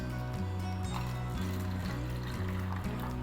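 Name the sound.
pouring water into bowls for playdough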